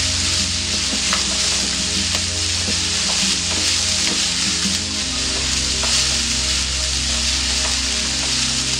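Crushed pappadam sizzles steadily in a hot pan for a Kerala pappadam thoran, a dense continuous frying hiss with faint stirring scrapes, close and loud throughout.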